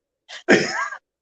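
A single close human sneeze, a short sharp intake followed by an explosive burst, loud and alone against silence.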